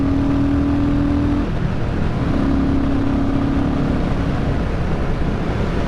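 A Royal Enfield Classic 350 motorcycle rides along a country road with a steady engine drone and heavy wind rush, loud and close, with the engine pitch holding even and then shifting slightly.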